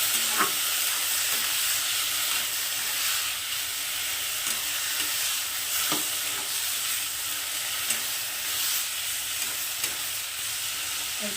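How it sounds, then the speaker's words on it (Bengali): Oil sizzles steadily in a pan as a lentil, egg and potato dish fries, with soft scraping clicks from stirring scattered through the continuous hiss; no talking. "তো এটাকে সামান্য একটু ভেজে নেবো খুব বেশি ভাজার দরকার নেই সামান্য একটু ভাজবো"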